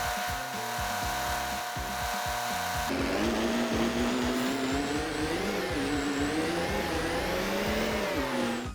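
Steady engine drone of a truck driving in Farming Simulator 25, with a rising and falling motor pitch and a constant low rumble, loud and continuous with no talk.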